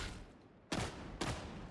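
Two sharp, loud shotgun blasts in the video game Darktide, spaced about half a second apart, each a broad burst with a short decaying tail over quiet game ambience.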